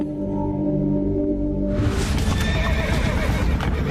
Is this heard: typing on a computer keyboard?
no